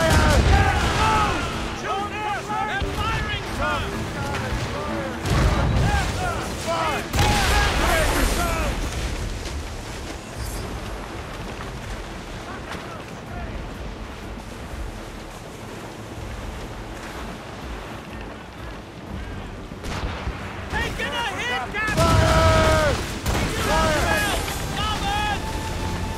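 Naval cannons boom from a sailing ship in Assassin's Creed Rogue, a few heavy broadside blasts rising over rolling waves and wind while crew voices shout orders throughout.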